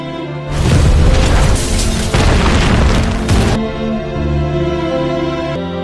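A university building explodes in a drama scene: a massive, roaring explosion erupts suddenly and rumbles on for a few seconds before giving way to a lower, sustained dramatic score.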